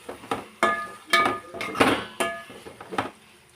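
A spoon stirs carrot curry in a pot, clinking and scraping against the metal in a handful of distinct, irregular knocks at close range, with no talking.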